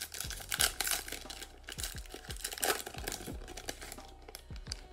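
Crinkly foil wrappers being torn open on 2020 Panini Donruss football hobby card packs, a run of close, sharp rips and crumpling crackles coming in quick bursts with no talk.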